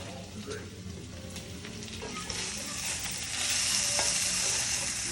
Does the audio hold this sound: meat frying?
yes